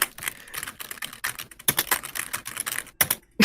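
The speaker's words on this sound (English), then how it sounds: "You just hear him typing on his computer." Rapid, uneven keystrokes on a computer keyboard, close and fairly loud, with clustered clicks, brief pauses and a short silence near the end.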